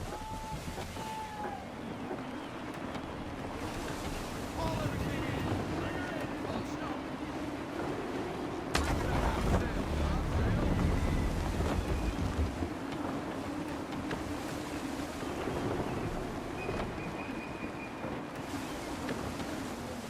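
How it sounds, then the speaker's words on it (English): Gusty wind blowing over a sailing ship on open water in Assassin's Creed III, a low steady rush with swelling gusts and splashing waves, under occasional in-game voices. "Wind looks to be shifting. Stay alert, Connor. Gusty winds can be difficult to manage."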